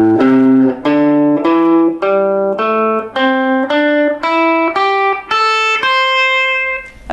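An electric guitar plays the blues scale, about eleven clean single notes picked one at a time in a steady ascending run, each ringing briefly, loud and alone.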